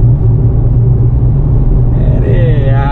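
A smoky vehicle's engine rumbling on the road, a heavy steady low drone close by, with a voice speaking over it toward the end.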